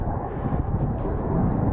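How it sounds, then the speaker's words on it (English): A military jet comes in toward Naval Air Station Whidbey over Deception Pass near Oak Harbor, Washington, a broad distant roar rumbling steadily under gusty wind noise. "looks like one of the jets from Naval Air Station Whidbey there coming in"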